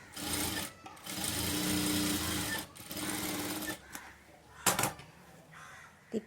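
A sewing machine stitches a small blouse in steady bursts, running for a second or two at a time, then pausing briefly before starting again, fairly close and moderately loud.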